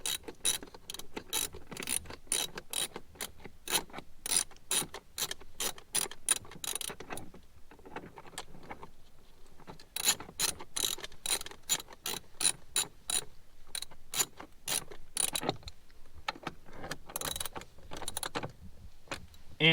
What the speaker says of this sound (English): I'm gonna use that same wrench, same 10 millimeter, and tighten this down